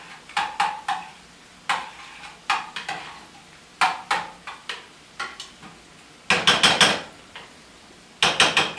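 Garlic is pushed around a pan on a stovetop burner set to medium-high. A series of sharp scraping and tapping strokes from a utensil on the pan comes in uneven bursts, up close, with a faint sizzle between them.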